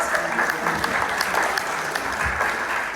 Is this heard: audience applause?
yes